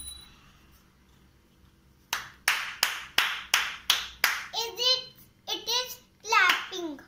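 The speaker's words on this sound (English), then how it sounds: "It is clapping." Hands clap sharply seven or eight times in a steady rhythm after a quiet pause, close and crisp, followed by children speaking during a classroom sense-recognition activity.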